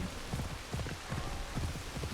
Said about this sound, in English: it's really just because of the rain that's going over me